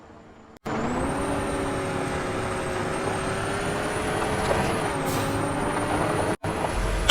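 A race car in the Roblox game Car Crushers 2 accelerating through a Grand Prix, a loud steady engine drone with a rising whine held for several seconds, briefly cut off near the end.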